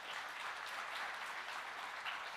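An audience at a business summit in India applauds in a soft, even patter of many hands that holds steady throughout, heard from some distance.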